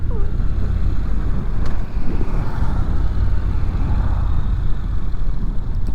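A Honda NC750XA motorcycle's engine rumbles steadily while riding, a low continuous drone mixed with wind and road noise, with no talking.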